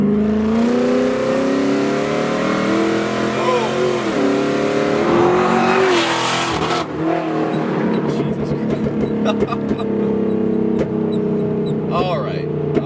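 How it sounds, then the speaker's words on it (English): An 800 HP Cadillac CTS-V engine revs and pulls hard as it accelerates, loud and close, with voices talking over the roar. "Give it some gas."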